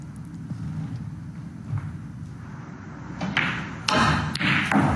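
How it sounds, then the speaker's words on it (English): A snooker cue ball strikes and pots a ball at the Northern Ireland Open, giving a few soft close knocks and thuds over a low arena murmur, with no speech. "Great pot this. Look at the action on the cue ball."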